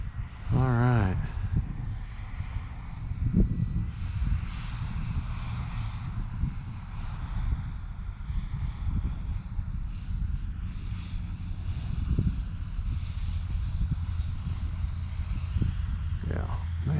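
An E-flite Cirrus SR22T RC airplane comes in to land in a crosswind, its small electric propeller drone steady and distant beneath constant wind buffeting on the microphone, while people talk throughout.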